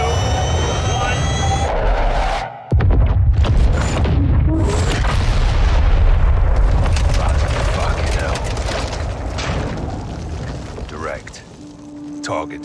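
Heavy airstrike explosions roll through a Call of Duty Modern Warfare 2 battle, a loud sustained rumbling roar with a sharp boom after a brief gap, debris and jet-like noise trailing off.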